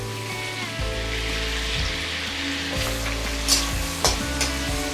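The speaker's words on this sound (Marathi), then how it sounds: "थोडंसं भाजून घ्यायचं हे फ्राय करून घ्यायचं छान असं आलं आणि लसूण" Ginger garlic paste fries in butter and oil for pav bhaji, giving a steady close sizzle. A spoon stirs and scrapes the pan now and then.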